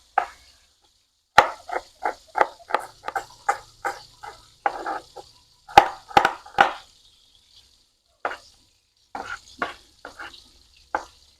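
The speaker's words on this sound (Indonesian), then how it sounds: "Kita iris ya bawangnya" Shallots being sliced with a knife for cooking, a close series of crisp, evenly paced cuts against a board, pausing briefly before a few more slices, with a quiet background.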